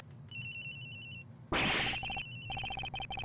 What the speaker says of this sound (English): Agent Hicks's phone is ringing from somewhere, sir.